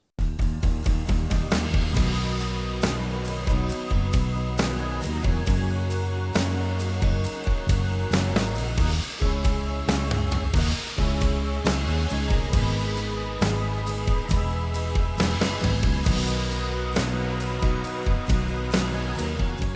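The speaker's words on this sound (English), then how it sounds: "all of the instruments together at that point in time, without the vocals, sound like this" Full instrumental backing from a song mix with acoustic and steel string guitars strumming alongside bass and drums, with no vocals, playing loud and steady throughout.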